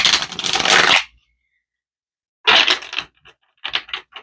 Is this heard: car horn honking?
no